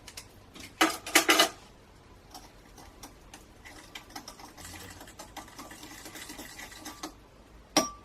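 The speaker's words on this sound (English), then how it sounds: "we're going to mix that until it is well combined" Caster sugar and ground cinnamon mixed in a mixing bowl: a few loud scraping bursts early on, then lighter, irregular ticking and rasping strokes that stop and start, with a final sharp scrape near the end.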